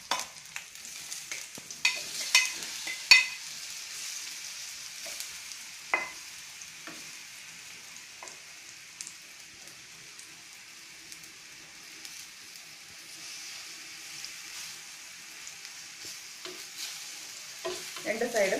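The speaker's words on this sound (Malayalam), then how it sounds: "അതിനകത്ത് കട്ട് ചെയ്ത് വെച്ചേക്കുന്ന ഏത്തപ്പഴം ഇട്ട് നന്നായിട്ട് റോസ്റ്റ് ചെയ്തെടുക്കുക" Cut banana pieces roasting in a spoonful of ghee on a hot griddle, giving a faint, steady sizzle with a few sharper crackles and utensil taps near the start.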